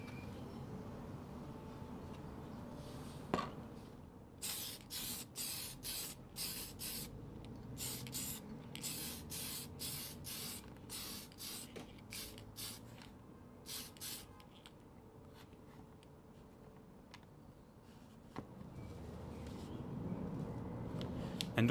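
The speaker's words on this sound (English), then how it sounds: "make sure that you get the paint all around the edges and don't leave any thin or unpainted bits around the" Bursts of aerosol spray paint coat a 2001 Kyosho Ultima RB RC car body, roughly twenty short hissing puffs in a quick rhythm, close and crisp over a quiet room hum.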